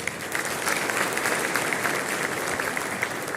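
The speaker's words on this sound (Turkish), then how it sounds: "Onlara da ayrı bir alkış, bir teşekkür rica ederim." An audience at a tourism association meeting held in a hotel applauds, a dense, steady, even patter of many hands clapping throughout with no speech over it.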